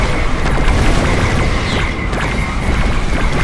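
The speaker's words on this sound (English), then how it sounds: "Tiberium explosion detected." A Tiberium explosion in the real-time strategy game Command & Conquer 3: Kane's Wrath, a loud, dense rumbling blast with crackling debris that fills the whole stretch, layered over continuous battle noise.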